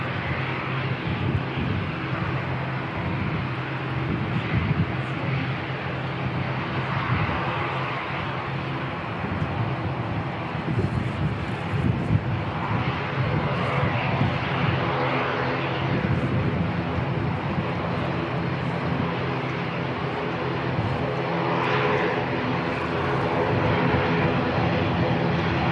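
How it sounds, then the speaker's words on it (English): Air Chatham's flight 543 flies over Christchurch Airport on its way to the Chatham Islands, a steady droning engine hum with a low throb that holds for the whole stretch, with faint voices now and then. "Air Chatham's flight 543 heading back to the Chatham Islands."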